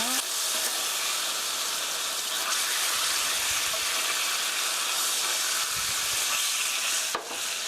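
Hamburger steak sauce with half a cup of cold water added, bubbling on the stove; a steady, close hiss and sizzle carries on without a break, with no voices.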